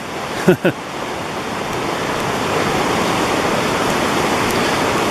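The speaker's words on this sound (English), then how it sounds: "I'm coming down here now to the crossing of Clear Creek on this good bridge" Clear Creek rushing beneath a bridge on the hike toward Missouri Mountain, a steady broadband wash of flowing water that holds constant throughout, with a couple of brief knocks near the start.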